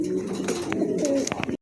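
A pair of red bar Lahori pigeons coo softly and continuously close by, a low rolling murmur with a few brief sharper sounds mixed in, before cutting off abruptly.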